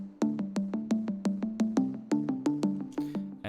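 A bright plucky synth repeats short staccato notes in a steady rhythm, each note decaying quickly, forming a simple looping melody.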